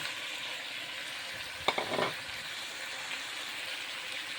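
Small puti fish, onion and sliced chili fry in a pan with raw mango for a small-fish chorchori, giving a soft, even sizzle. Around the middle a brief clatter of ingredients dropping in or a stir briefly swells it.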